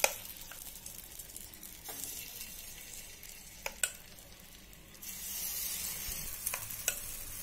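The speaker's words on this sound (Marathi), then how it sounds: "आता आपण बॅटर त्याच्यात घालू." Sweet corn appe batter sizzles in a greased appe pan, a soft steady frying hiss broken by light clinks and scrapes as more batter goes in, swelling louder near the end.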